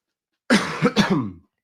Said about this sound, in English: Sorry, the cough's coming back a bit.